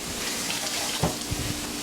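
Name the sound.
tap water running while washing a carrot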